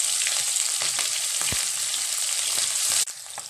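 Small shallots and green chilli fry in hot oil with mustard seeds and chana dal, giving a steady close sizzle with a few stirring clinks.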